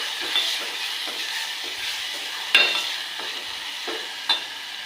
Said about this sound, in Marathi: तेलात तळून घेऊया थोडंसं